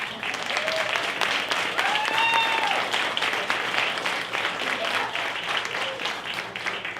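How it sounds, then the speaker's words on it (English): Audience applause at a Latino Key Network speaking panel, steady dense clapping for about seven seconds with a few whoops and cheers rising over it, fairly loud and close. "So let's give them a round of applause."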